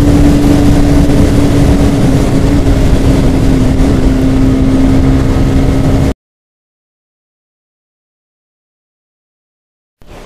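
Suzuki Raider R150Fi motorcycle engine running while riding, a loud steady close drone with a sustained tone that cuts off abruptly into silence.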